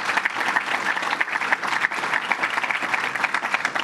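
A crowd at a fire department gathering claps in steady, dense applause throughout, with no voices standing out.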